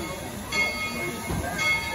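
A moving train rumbles along a mountain route with a steady low roar and faint metallic squeal from the wheels on the rails, heard from on board.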